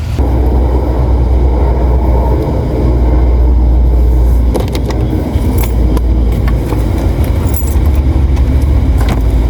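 A car is driven with a steady low engine and road rumble throughout, and a few brief rattles and clicks from inside the cabin sit over the drone.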